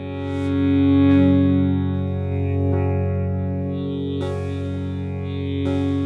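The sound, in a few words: wavetable synth pad with heavy effect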